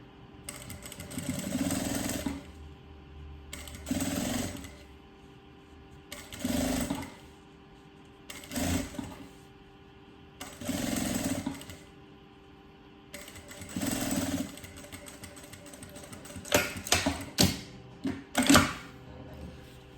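A sewing machine stitches a zipper onto a pencil case in repeated bursts of rapid mechanical whirring separated by short pauses, with a few quicker clicking runs near the end.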